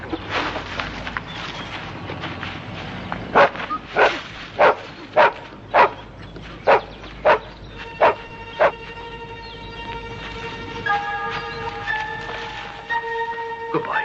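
A hound barks in a series of about a dozen loud, evenly spaced woofs over background noise, while a train-like horn or whistle tone sounds in the latter half.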